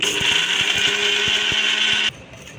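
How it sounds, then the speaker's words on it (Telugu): A mixie jar blends dried red chillies, garlic and salt for gongura chutney with a loud, steady high whine and faint rattling underneath, then cuts off abruptly near the end. "ఇప్పుడు మనం ఇదంతా మిక్సీ పట్టుకుందాం."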